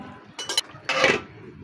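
A cooking pot of hilsa fish, drumsticks and lentil dumplings is stirred and then covered with a lid, giving a few faint, close metallic clinks and a brief scrape with no voices.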